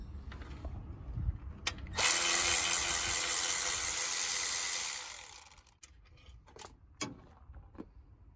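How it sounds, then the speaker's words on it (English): A ratchet wrench spins off an alternator mounting bolt on a Honda Accord, a loud continuous rapid clicking burst lasting about three seconds, with a few scattered tool clinks before and after. "we can take our top bolt off and the bottom one, so we can start taking this apart"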